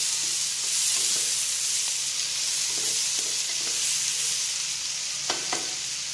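Okra masala with chopped coriander leaves being mixed in a pan, a soft steady sizzle under a run of gentle spoon scrapes and taps, close and quiet with no speech.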